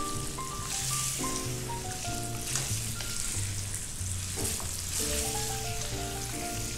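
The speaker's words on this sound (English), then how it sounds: "Keep stirring until it's get nice brown color. Keep stirring for 2 to 3 minutes." Lamb pieces fry and get stirred in a pan, a steady broadband sizzle running beneath loud, continuous background music throughout.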